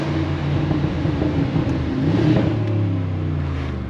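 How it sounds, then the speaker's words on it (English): A Brabus G700 G-Wagon engine revs with a deep, loud, rumbling exhaust note that swells and throbs throughout a short burst, heard up close from the cabin on the autobahn. "listen to the G700 when it's revving"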